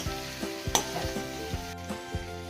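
Potatoes frying with masala in a pan over low gas, a steady sizzle broken by repeated scraping strokes of a spoon stirring every half second or so, close and fairly loud, with no talk.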